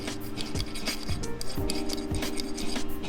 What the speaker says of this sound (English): You're filing the head of the head of the bolt.